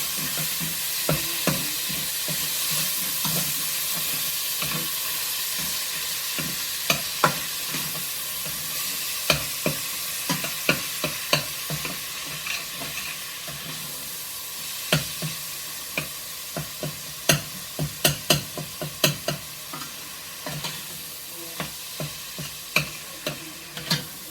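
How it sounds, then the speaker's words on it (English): Hamburger meat browning in a pan sizzles steadily, with frequent sharp pops and scraping clicks from stirring throughout, close and continuous with no talking. "And you want your hamburger meat good and brown."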